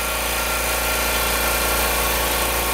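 A shop air compressor used for painting an MR2 engine bay runs with a loud, steady, even hum close by, unbroken throughout.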